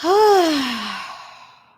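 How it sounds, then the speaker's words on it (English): A single big, forceful exhale during a guided breathing meditation, a loud breathy sigh that starts strong and trails off over nearly two seconds, close and alone. "And a big, powerful exhale out."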